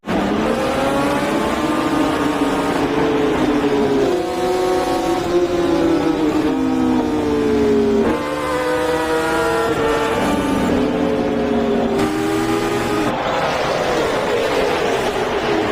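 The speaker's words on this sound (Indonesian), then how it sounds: "Dengan mengendarai Kawasaki Z600 yang sangat terkenal, Rafa mulai menggunakan skill rahasianya, yaitu keplak-keplak kopling" Kawasaki Z600 motorcycles racing, engines screaming loud and close, pitch climbing through repeated gear shifts with brief drops between, steady and continuous with no talk.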